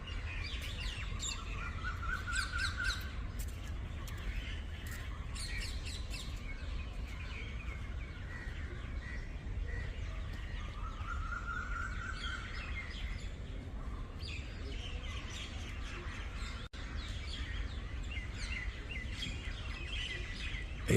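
Birds chirp and sing in a lively chorus, with repeated bright tweets and trilling calls scattered throughout over a steady background hiss, moderately near and with no talk.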